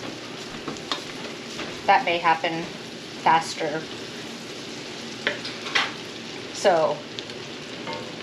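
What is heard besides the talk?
onions sauteing in a pan for bacon jam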